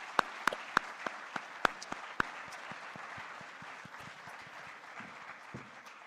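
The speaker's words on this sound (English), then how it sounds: "that took a big round of applause for Nathan's commitment." Scattered hand claps from an audience at a leadership conference with students present, a handful of sharp claps up front that thin out into faint, sparse patter.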